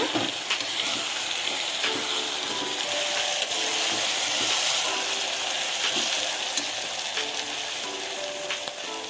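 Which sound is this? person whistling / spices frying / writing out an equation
spices frying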